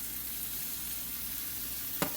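Spinach, bell peppers and onions sautéing in a pan give a steady, soft sizzle that holds even throughout, with one brief sharp clink of a utensil near the end and no talk.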